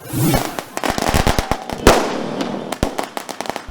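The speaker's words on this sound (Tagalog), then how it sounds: "Sino man naman ang hindi maririndi at mabibingi sa mga ingay ng paputok na sabay-sabay" Firecrackers go off in a rapid, overlapping string of sharp cracks and pops, loud and close, with some background voices.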